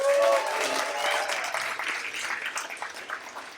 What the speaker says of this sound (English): Can we get a big round of applause for Freddie?